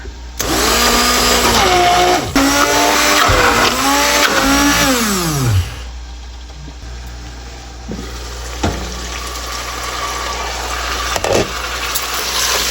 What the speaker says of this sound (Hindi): ये हैंड बीटर से मैं पीस रही हूँ पालक।